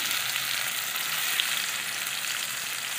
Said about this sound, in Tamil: இதோ வதங்கிட்டே இருக்குது